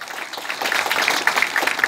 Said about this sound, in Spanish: Fuerte el aplauso para Emilio Escudero